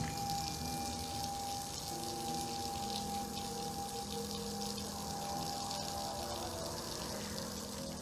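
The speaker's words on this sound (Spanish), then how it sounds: "el grifo de agua se abrió" Water from a tap runs in a steady rushing gush with a constant hum and a faint tone under it, continuous and fairly close with no break.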